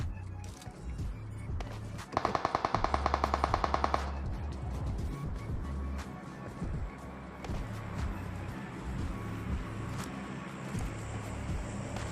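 In PUBG solo FPP play, an M249 machine gun fires one rapid burst of about fifteen shots for roughly two seconds, against ongoing game ambience with faint movement noises.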